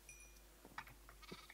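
Sheep bleating in the video game Minecraft, a few short faint bleats over a low steady hum, with no talking.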